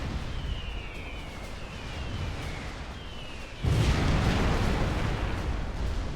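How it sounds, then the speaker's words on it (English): Bombing in the strategy video game Supreme Commander 2: a dense rumbling explosion blast erupts partway through and keeps roaring loudly over a busy battle background with faint whistling tones before it. "Just let him bomb everything."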